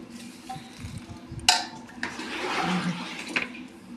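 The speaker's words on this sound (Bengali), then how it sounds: "দেখো এবার আমি এক এক করে টমেটোগুলো ধুয়ে নিচ্ছি" Firm, unripe garden tomatoes rinsed one by one under running water, a close splashing flow with brief clatters of fruit and handling, no talking.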